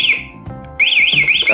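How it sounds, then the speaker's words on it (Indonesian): A motorcycle security alarm wails in a loud, close electronic siren with a sweeping warble, briefly cutting out near the start before resuming. "maka alarm akan nyala"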